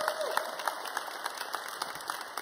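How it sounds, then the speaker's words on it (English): An audience applauds steadily throughout a tech conference talk, fairly faint, dense clapping heard from a distance with no talk over it. "Yes, I said Cheryl Conti, you can applaud now."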